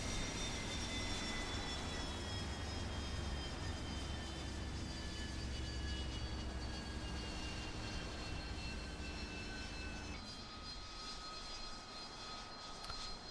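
A Harrier jet in War Thunder drones steadily through a descent, its engine a continuous whine with high tones that slowly sink in pitch and shift abruptly near the end, with no one talking.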